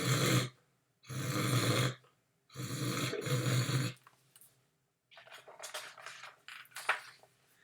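A dog named Claudette snoring loudly in rhythmic rasping breaths, three long snores with gaps between, then softer snuffling, scratching and snorting sounds close by.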